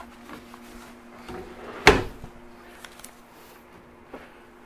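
A single under-bed storage drawer in a Palomino Sabre 34REQS RV slides and bumps shut with one sharp clack, followed by a few softer knocks, over a quiet interior hum.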